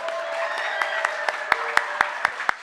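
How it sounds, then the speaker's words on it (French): An audience at a church singing contest claps in a steady rhythmic beat, sharp evenly spaced claps over a soft wash of background applause and a sustained tone. "battons un applaudissement pour vous"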